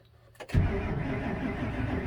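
A 2006 Ford F250 with a 5.4 engine cranks without starting, a steady starter-driven churn that begins abruptly after a short click and runs on close and loud with no catch.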